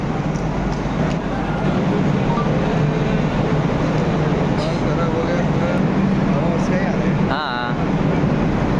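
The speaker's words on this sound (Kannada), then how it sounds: "CSMT ಸ್ಟೇಷನ್ಗೆ ಬಂದೇವ್ರಿ" Inside the large, busy CSMT railway station in Mumbai, a continuous station din of trains, crowd murmur and traffic hum fills the scene, with people talking nearby and a brief sharp squeal near the end.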